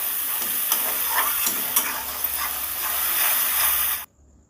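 Loud frying hiss and sizzle of a mustard-and-poppy-seed hilsa fish curry as turmeric is stirred in, with scraping stir strokes throughout before the sound cuts off abruptly near the end.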